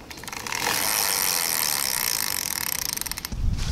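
A ratchet tightens the axle nut on a Jetson Bolt Pro folding electric bike's wheel, a loud, steady run of rapid clicking close by that stops abruptly near the end.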